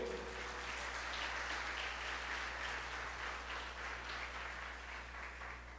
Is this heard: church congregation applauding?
yes